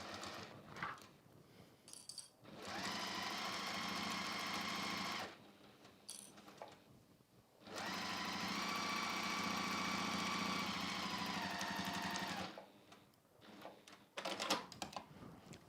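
A sewing machine stitching a foot-long flexi frame pouch runs in two long, steady whirring bursts of several seconds each, with short pauses and faint handling noises between them and no voices.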